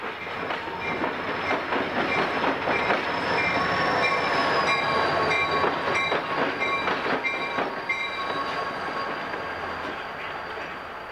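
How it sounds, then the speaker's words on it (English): Southern Pacific work train rolling across the Sacramento River swing bridge, with steady rumble, rhythmic wheel clatter and a thin wheel squeal, loud and close throughout before easing slightly at the end. "This train is now crossing the Sacramento River on the first water crossing of the original Central"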